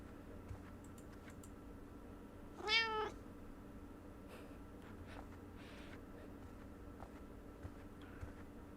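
A single clear cat meow, rising then falling, from the video game The Kidnap, heard alone over a low steady background hum.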